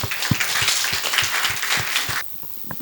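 Audience applause greets a guest at a televised magazine show on childcare centres, a dense wash of clapping with a few sharp louder claps, cutting off abruptly near the end.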